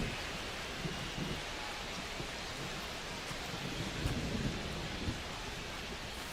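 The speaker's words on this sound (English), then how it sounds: "This rain is not letting up." Steady rain and rumbling thunder during a baseball game in MLB The Show 25, a dense, unbroken hiss of rainfall with low rolling rumbles underneath, even and continuous, with no voices.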